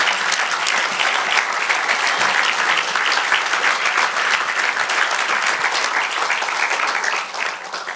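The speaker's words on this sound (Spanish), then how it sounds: "Dale un aplauso a nuestro Dios." Sustained, loud applause from a large church congregation, steady clapping throughout that begins to thin out near the end.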